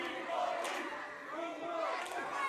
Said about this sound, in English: getting the crowd here in Nashville behind him